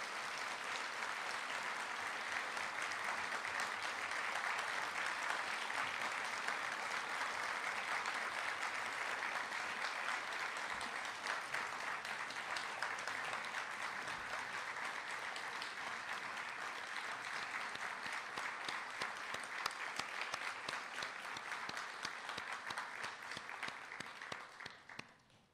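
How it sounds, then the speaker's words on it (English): A large audience at a county State of the County address on Maui gives sustained, dense applause, a steady wash of clapping that holds evenly for about twenty-five seconds before tapering off. "Let's give them a warm round of applause."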